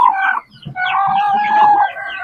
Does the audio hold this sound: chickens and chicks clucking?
yes